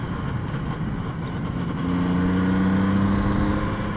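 A 1972 Suzuki GT750 motorcycle engine drones steadily while the bike is ridden, its hum rising into a firmer, tonal pitch partway through, loud and continuous with wind noise.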